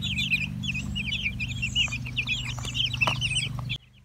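Newly arrived meat chicks cheeping constantly in a brooder, a busy overlapping chorus of high peeps close by over a steady low hum, ending abruptly.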